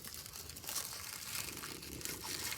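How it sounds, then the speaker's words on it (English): Dry paper crinkling and rustling continuously, close up, with busy broadband crackle throughout and no talking. "add the tissue paper, kind of crinkle it up"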